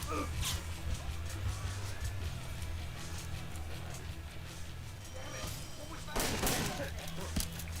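Riot shotgun fire in the Splinter Cell: Double Agent stealth game arrives as a few sharp bursts, loudest near the end, over a steady game background and a talking voice.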